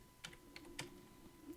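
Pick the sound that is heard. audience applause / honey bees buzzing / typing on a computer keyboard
typing on a computer keyboard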